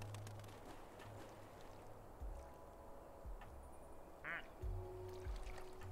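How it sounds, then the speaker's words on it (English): A duck in the Disney Dreamlight Valley video game gives a brief, clear quack partway through, set against a soft, steady bed of ambient game sound. "And we're just about to get another duck."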